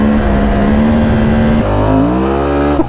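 A KTM 890 Adventure R motorcycle engine revs loudly and steadily on rocky terrain, its pitch climbing and shifting as it accelerates, then cuts off abruptly near the end.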